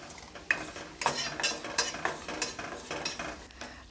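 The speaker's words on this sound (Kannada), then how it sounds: "ಇವಾಗ ಇದನ್ನು ಚೆನ್ನಾಗಿ ಮಿಕ್ಸ್ ಮಾಡ್ಕೊಳ್ತೀನಿ." A spoon stirs homemade Cerelac powder into milk in a pot, scraping and clinking in quick, regular strokes about twice a second, close and fairly quiet.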